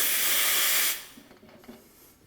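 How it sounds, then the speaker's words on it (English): A loud, steady burst of steam hisses for about a second from an espresso wand, then cuts off, leaving faint clinks and quiet room noise. "wipe the steam wand, and then purge."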